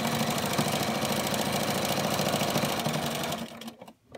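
A home sewing machine with a 1/4 inch foot stitching down a quilt binding runs in a steady, fast mechanical whir for several seconds, then slows and stops; no voices.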